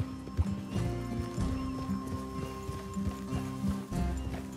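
Horses in the open-world western game Red Dead Redemption 2, hooves clip-clopping in a steady walking rhythm, close and fairly loud, with a brief whinny near the start and game score droning underneath.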